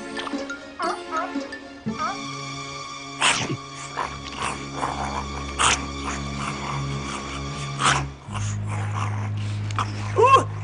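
A cartoon dog whimpers and yips in short high cries over a musical backing with sustained tones.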